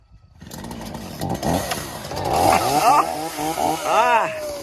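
Two small gas engines, primed and choked, sputtering and catching in rough, rising revving bursts close by, growing louder over a few seconds.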